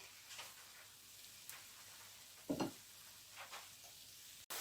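Kara boondi deep-frying in hot oil, with a soft steady sizzle and a few ladle taps against the pan, fairly quiet with no voices.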